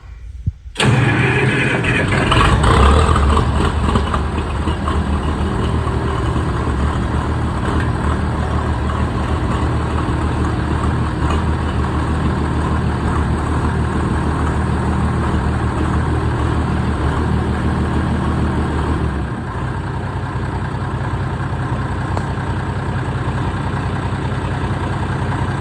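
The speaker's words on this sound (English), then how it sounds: "Like most Molines, this thing's a little cold-blooded, but it is 80 degrees out today, so it might start without any persuasion." A 1965 Minneapolis Moline G707 tractor engine cranks briefly and catches, then settles into a loud, steady, low idle that drops slightly in level near the end, close by and alone.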